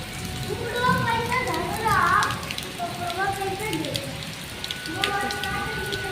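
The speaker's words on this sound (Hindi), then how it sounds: "इतना तेज हो रही है बारिश" Steady rain hisses on surfaces close by while children's voices chatter and call out over it.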